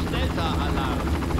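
In the video game Far Cry, a nearby helicopter keeps up a loud, continuous rotor thrum with a pulsing low beat, while someone talks over it.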